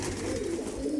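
A Madrasi pigeon coos while held in a hand, a steady low throaty warble running close and continuous through the whole moment, with no talking.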